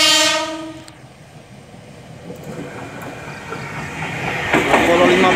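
A Tokyo Metro 6000 series commuter train, set TM 6015, sounds a loud horn blast, then rumbles past with the rising roar and rattle of its cars.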